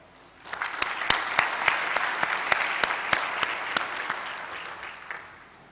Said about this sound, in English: So please join me as we applaud them and our support staff for the role they played.